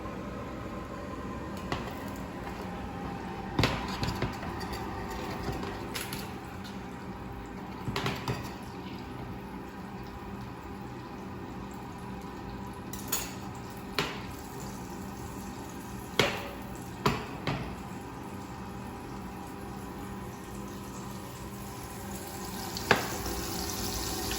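Butter melting in a pan while cooking chicken scaloppine, a steady soft sizzle with a few sharp clicks and taps of utensils against the pan throughout.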